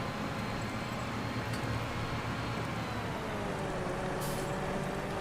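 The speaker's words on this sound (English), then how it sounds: "It's got the annoying compressor sounds" A Case Puma CVX tractor in Farming Simulator 19 gives a steady, loud engine drone with a constant broadband rumble, and a short air-compressor hiss breaks through near the end.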